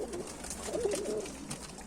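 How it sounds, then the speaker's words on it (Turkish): Mardin tumbler pigeons coo softly in a loft, a short rolling call rising over a faint background murmur of other birds. "Çok eski güzel güvercin arkadaşlar"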